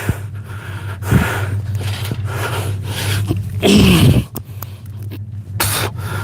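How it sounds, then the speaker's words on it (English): A Sawzall reciprocating saw cutting through linkage on a 1968 Thunderbird during engine and transmission removal, a loud continuous rasping buzz with short pauses and restarts. "We're just gonna sawzall it."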